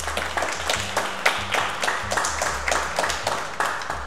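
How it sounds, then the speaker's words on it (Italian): Audience applause welcoming a guest, artist and co-founder Francesco Canale, onto a talk-show stage: steady clapping from a crowd with bursts of sharp claps over about four seconds, fairly close. "Un bel applauso a Francesco Canale."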